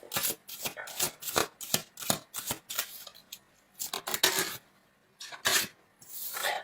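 Tarot cards being shuffled by hand, heard as a quick series of crisp riffling and rubbing bursts with short pauses between them, close and fairly clear, with no voice over them.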